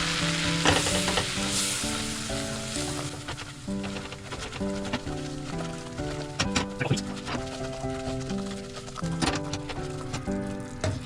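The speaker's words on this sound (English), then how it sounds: "Add the flour. And stir in." Flour is stirred into a sizzling pan of hot fat for a cauliflower cheese sauce, a steady frying hiss with repeated spoon knocks and scrapes against the pan.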